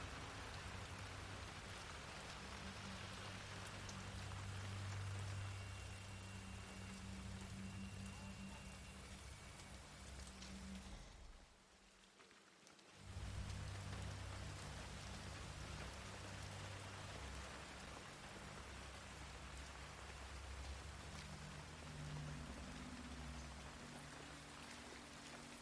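Steady rain falling in Hitman III, a constant dense hiss of drops on surfaces with a low hum beneath, briefly cutting out partway through before resuming just as heavy.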